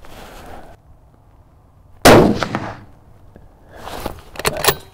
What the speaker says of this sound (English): I'm not shooting very well on this one.